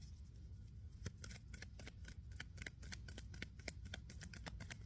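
Playing cards riffled and shuffled for a tarot-style angel reading, a run of crisp rapid flicks and snaps at close range over a faint low background hum, with no one speaking.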